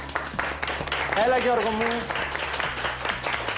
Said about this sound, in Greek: Χειροκροτήστε τον, παρακαλώ.